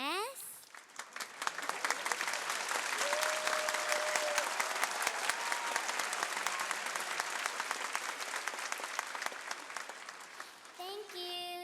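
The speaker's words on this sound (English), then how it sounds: "Please give us lots of cheers." Loud, sustained applause with cheering from an audience thanking the Little Angels troupe after their show, a dense wash of clapping that swells and holds for several seconds before tapering off.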